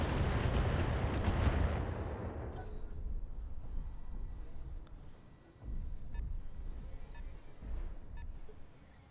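LRM missile volleys launch at a standard turret in the mech game BattleTech, a loud rumbling barrage in the first two seconds fading into lower booming impacts and a second swell of rumble near the end.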